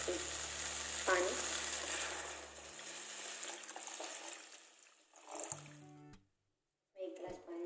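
Vegetables frying for masala Maggi sizzle steadily as a glass of water is poured in, the hiss and bubbling loud and continuous before cutting off briefly, with a voice talking over it.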